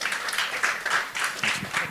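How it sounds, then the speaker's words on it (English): Conference audience applauding a speaker at the State of States 2023 event, a brief burst of many hands clapping in a dense, steady patter, heard close and alone. "Let's give her a round of applause."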